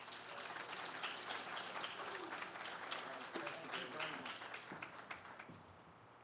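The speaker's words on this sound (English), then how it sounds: "Please give a warm round of applause for David Thornburg." Sustained audience applause at a Philadelphia-area congressional candidates forum, a dense, steady wash of many hands clapping for several seconds and thinning slightly toward the end.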